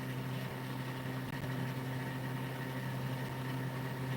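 A homemade pulse motor spinning at speed with a fan-like effect, a steady unbroken hum with strong constant tones and a whooshing airy layer, even and continuous without pauses or talking.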